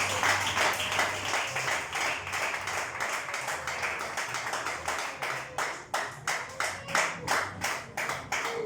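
A church congregation applauds for Jesus with sustained clapping from many hands that grows into a steady rhythmic beat, fairly loud and continuous.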